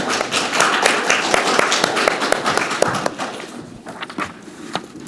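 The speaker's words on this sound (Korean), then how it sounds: "박수로 맞아주시기 바랍니다." Audience applause at the opening ceremony of a mental health policy forum welcomes a government official to the stage: a dense run of many hands clapping that thins and fades toward the end, with no talking over it.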